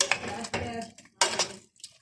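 A utensil stirs a meat mixture in a pot, giving two short bursts of clinking, scraping strokes against the metal with quiet gaps between them, and no voices.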